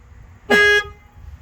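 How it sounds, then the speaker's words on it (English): A single loud horn blast with rich harmonic tone, held steady for about a third of a second over faint background rumble. "do the air horn."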